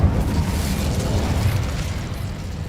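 Incendio fire spell going off in Hogwarts Legacy, a steady roaring, crackling blast of flame that holds at moderate loudness for nearly three seconds without letting up.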